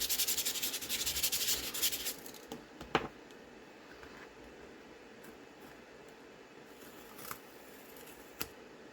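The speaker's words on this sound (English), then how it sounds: "let me sand this down a little bit. Just to get the shine off" Rapid, close scratchy sanding strokes on a lapbook craft piece to take off its shine. The rubbing is loudest at first, then eases into quieter, intermittent scraping with a few small clicks.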